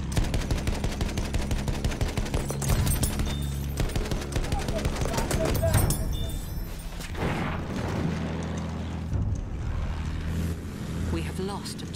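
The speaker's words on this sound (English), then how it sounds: "They already have so many people shooting me from the very beginning" Dense, rapid gunfire from enemy soldiers in the World War I shooter Battlefield 1, with rattling bursts and booms close by, a loud and nearly continuous barrage with a voice speaking over it.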